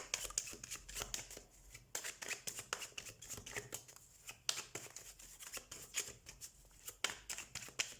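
Tarot cards being shuffled by hand, a run of quick riffling flutters repeating in short bursts, close and soft, with no talk over them.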